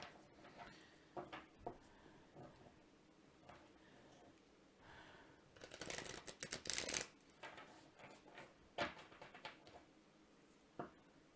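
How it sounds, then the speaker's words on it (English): Tarot cards are shuffled in quick riffling bursts, soft and close, with a louder flurry midway and scattered small taps and handling sounds. "Let's go another shuffle."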